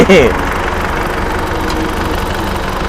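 Isuzu D-Max pickup with an automatic gearbox idles steadily with a lumpy, ticking beat, the engine note close and constant throughout, with a brief voice at the very start.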